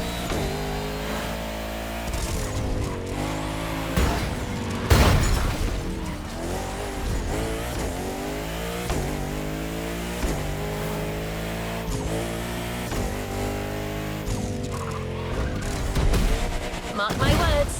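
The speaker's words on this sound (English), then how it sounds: "Mark my words, the asphalt will crack under the wheels of this car." Lamborghini Huracan in The Crew Motorfest racing game, its engine revving and shifting through rising and falling harmonic sweeps, loud and continuous, with a sharp burst near the middle and other game effects layered in.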